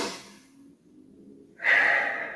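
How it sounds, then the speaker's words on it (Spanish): A person exhales audibly during a meditation breathing demonstration, a soft breath that fades, followed by a stronger, louder breathy rush near the end, close to the mic. "Y expiramos."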